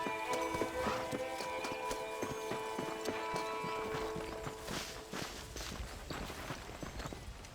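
Horse hooves clip-clopping at a steady riding gait in the Red Dead Redemption video game, loud and rhythmic, with a brief whinny and faint game music underneath.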